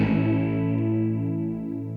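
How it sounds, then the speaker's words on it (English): Electric guitar chord played through a Scirocco chorus effect whose envelope follower adds shimmering modulation only while the volume changes, ringing loud at first then decaying smoothly alone. "as soon as I play my guitar, I have a chorus effect and then it stabilizes and then I have it again when the volume is changing."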